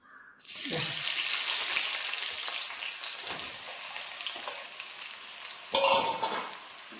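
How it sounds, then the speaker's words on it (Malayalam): Sliced onions hit hot coconut oil with a loud burst of sizzling that settles into steady, crackling frying, with a few clattering stirs of the pan and a fresh flare of sizzle near the end; no one speaks. "നമുക്കിതിലേക്ക് കുറച്ച് സവാള ഇട്ടൊന്ന് പൊരിച്ചെടുക്കാം."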